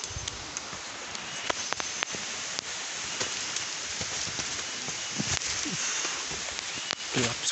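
Steady rain patters on surfaces nearby in a forest as it grows dark, a dense continuous hiss broken by occasional sharper drops and small knocks.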